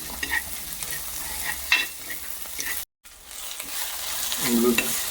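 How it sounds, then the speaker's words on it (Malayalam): Ginger, garlic, green chilli and curry leaves sizzle in a hot pan, with scraping stirs and crackling bursts, briefly cut silent before the frying resumes, close and clear. "ഇഞ്ചി വെളുത്തുള്ളി പച്ചമുളക് കറിവേപ്പിലിട്ടു"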